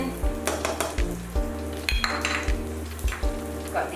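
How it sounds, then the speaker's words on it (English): Onion frying in hot oil with steady sizzling, punctuated by regular metallic clanks of a utensil stirring against the pan about twice a second, close and fairly loud without any talk. "Once the oil is hot, I'm adding in the onion, the garlic, the ginger, and the chili padi."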